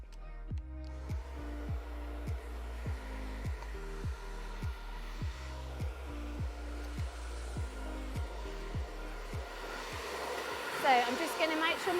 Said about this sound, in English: if you want to use the cool option on your dryer, then you can use the cool option